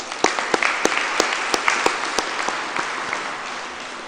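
An audience at a Grade 12 IB Diploma graduation ceremony applauds for friends and family, a dense, sustained burst of clapping from many hands with a few sharper individual claps standing out, filling the hall evenly.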